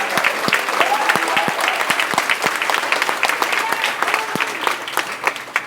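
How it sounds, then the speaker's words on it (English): Applause for teachers fills an elementary school gathering, a dense crowd clapping steadily for about six seconds with some voices mixed in. "Let's give a big round of applause to your teachers."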